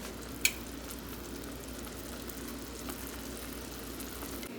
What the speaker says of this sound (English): I'm gonna let this simmer for 10 minutes.